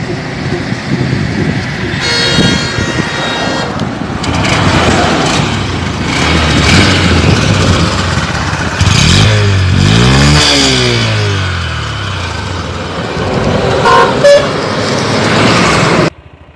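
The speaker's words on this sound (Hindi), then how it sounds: "अभी आपको इस बाइक का एग्जॉस्ट नोट भी सुना दिया हूँ" A Honda SP 125 BS6 motorcycle, a 125 cc bike, runs loud and close, its exhaust revving up and down in several bursts, with a horn toot partway through.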